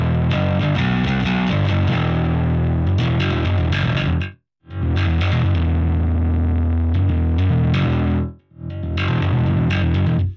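Bass guitar played through a Marshall amp plugin on the treble channel's low-gain input, a loud, gritty, driven riff in two long phrases separated by short pauses, with no talking.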